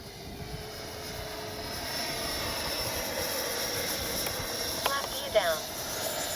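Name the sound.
FMS Avanti S 70mm RC jet flying past slowly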